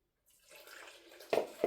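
A foaming yeast and honey mixture pours into a bowl with a soft, quiet liquid trickle, ending in two brief close drips or splashes.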